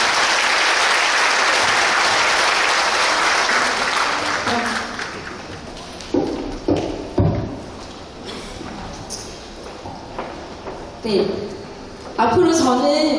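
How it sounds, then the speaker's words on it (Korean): Audience at a Korean international school parents' general meeting in Hanoi applauding parent representatives: dense, loud crowd clapping for several seconds that fades out, followed by a speaker talking into a microphone. "다시 한번 이분들께 격려의 박수 부탁드리겠습니다."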